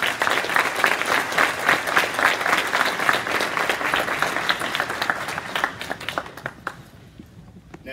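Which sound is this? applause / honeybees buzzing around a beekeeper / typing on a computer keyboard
applause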